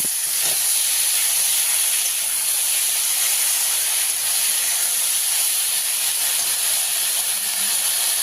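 Boiled taro stolons go into a hot pan of oil with fried garlic, giving a continuous loud hissing sizzle that stays steady throughout, with a brief clink near the start and no speech.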